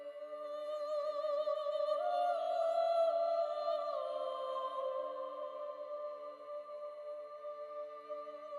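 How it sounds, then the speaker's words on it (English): In-game orchestral music from the video game Crusader Kings 3: soft, sustained tones with gently shifting pitches, layered harmonies fading slowly in a calm, quiet background wash, with no voices. "Now let's go to the in-game music here. Just hear a bit of a sample."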